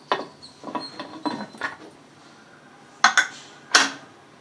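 A pressure cooker lid is set onto a pot of pudina bath: a cluster of light metallic clinks and scrapes, then two sharper clanks as it seats, close and alone.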